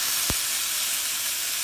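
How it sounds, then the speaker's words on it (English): Steady, loud hissing sizzle of chicken frying in a hot pan, with a brief low thump near the start. "That's a nice sizzle."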